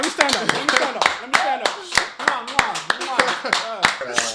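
Sharp hand claps repeat in a quick, uneven rhythm close by, with people talking loudly over them.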